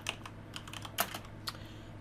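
Quiet typing on a computer keyboard, a few scattered key clicks with one sharper tap near the middle, close and faint over a low steady hum, with no voices.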